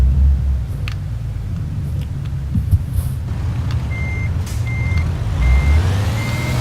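A truck in Euro Truck Simulator 2 reverses to hook up a trailer, its low engine rumble steady throughout while a reversing alarm beeps evenly four times near the end, loud and with no talking.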